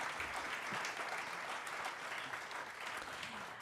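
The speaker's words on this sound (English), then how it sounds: "Let's give them all a round of applause." Audience applause fills the hall at a 2025 Edmonton mayoral candidates forum, a steady wash of many hands clapping at moderate volume, holding evenly from start to finish with no voices on top.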